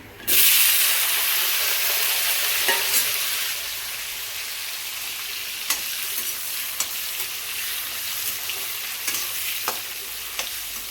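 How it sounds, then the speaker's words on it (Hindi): Onions frying in hot oil give a loud, steady sizzle that starts suddenly and then eases slightly, with faint clicks of stirring now and then. "प्याज डाल दूँ इसमें, प्याज फ्राई कर लूँगी।"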